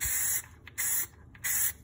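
White primer spray can hissing onto a tumbler in three short bursts, each about half a second, close and fairly loud with brief quiet gaps between.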